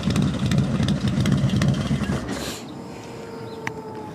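A Harley-Davidson Low Rider ST with a stage 2 engine runs with a loud, throbbing, lumpy rumble that cuts off partway through, leaving a quieter fading tail and a faint tick.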